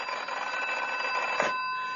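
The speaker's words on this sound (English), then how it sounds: "Until the telephone rang." A telephone rings in a British crime drama scene, a steady, clear electronic bell tone held for about two seconds, alone and fairly close.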